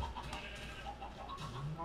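A Minecraft chicken gives a few short, soft clucks close by over a quiet background hum, with no one talking.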